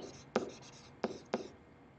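Pen or marker writing notes by hand during a Spanish grammar lesson on adjective agreement: three sharp scratchy strokes tap against the surface amid soft scraping, close and fairly quiet, with no talking.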